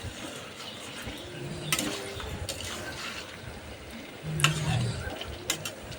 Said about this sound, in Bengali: মাংসটা নেড়ে চেড়ে নেব।